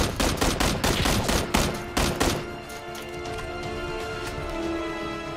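Rapid bursts of gunfire ring out in a PUBG battle royale match, a loud dense string of shots for about two seconds, then a fading echoing tail with no talk over it.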